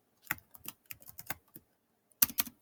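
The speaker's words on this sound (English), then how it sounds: "not used to typing on a Chromebook" Keys tapped on a Chromebook keyboard, a quick irregular run of light clicks followed by a short pause and a final burst of a few presses, close and quiet with no voices.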